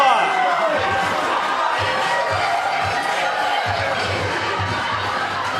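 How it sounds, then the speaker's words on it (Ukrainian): Wedding guests cheer and shout together as a loud crowd at a wedding feast, a continuous festive roar with voices mixed in throughout. "Ваші овації!"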